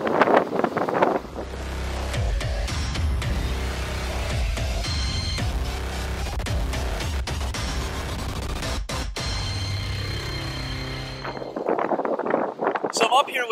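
Steady wind in Wisconsin rumbles and buffets the microphone throughout, a low roaring blow, with a person talking at the start and end.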